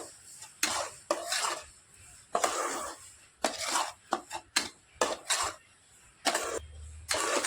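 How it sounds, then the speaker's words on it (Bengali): Semolina being stirred and dry-roasted in a pan, irregular bursts of scraping and clinking from a utensil against the pan, with quiet gaps between strokes and no talking. "এবার নাড়াচাড়া করে সুজিটাকে একটু ভেজে নেবো"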